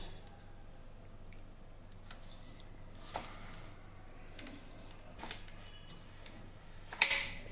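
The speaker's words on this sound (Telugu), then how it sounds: "ఎస్, సో క్లిక్ సౌండ్ వినిపించింది కదా మీకు." A plastic part of a Eureka Forbes Mop N Vac snaps into place with a small, crisp click near the end, after a few fainter ticks and handling noises in an otherwise quiet room.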